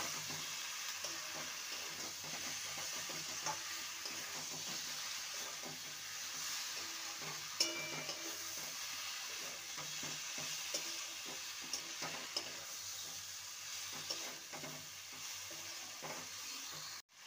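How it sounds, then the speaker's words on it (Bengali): Fried potato and okra are sautéed with spices in a pan, a low steady sizzle with scattered scraping and clacks of a spatula over a long stretch, fairly quiet and close, no one speaking. "ভালো করে মশলার সাথে কষিয়ে নেব।"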